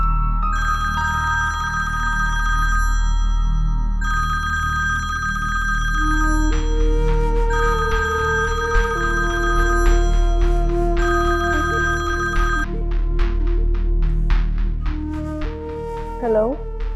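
A telephone rings repeatedly in bursts of electronic ringtone tones at a home dinner scene, loud and steady, with a brief voice near the end.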